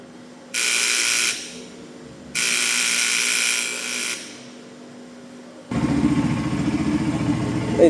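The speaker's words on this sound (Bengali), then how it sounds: "এই যে এখন আমাদের বাইকটা চালু হয়ে গেল" A motorcycle's starter whirs in two separate bursts with pauses between, then the engine catches and settles into a steady running drone.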